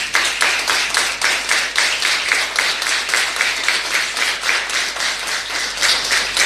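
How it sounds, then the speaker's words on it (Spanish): A crowd at a swearing-in ceremony in General Deheza applauds with strong, rhythmic clapping that pulses evenly throughout, loud and close. "un fuerte aplauso"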